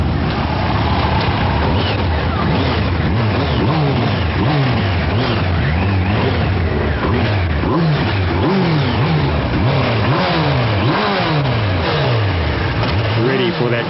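Two big sport motorcycles, a Kawasaki Ninja ZX-12R and a Suzuki GSX-R1300 Hayabusa, held at about 4,000 RPM at a drag strip start line; loud, continuous engine drone with rising and falling rev sweeps throughout.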